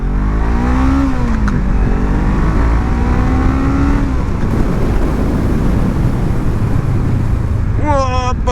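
A 2017 Honda CBR 500 R motorcycle engine revs up and down in rising and falling sweeps with wind noise, followed by a sharp high whine of acceleration near the end.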